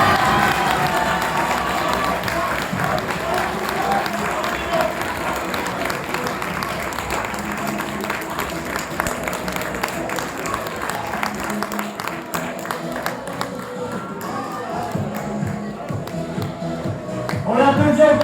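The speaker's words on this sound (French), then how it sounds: "On l'applaudit encore une fois." A crowd applauds a prize winner at an eloquence contest awards ceremony in Joué-lès-Tours, sustained dense clapping with some cheering that carries on steadily before thinning out near the end.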